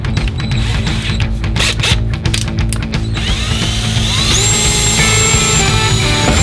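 A ratchet tightens shifter mount bolts on a Buick Regal during a drivetrain swap. Loud, close, rapid clicking ratchet strokes come first, then continuous metallic workshop clatter and scraping.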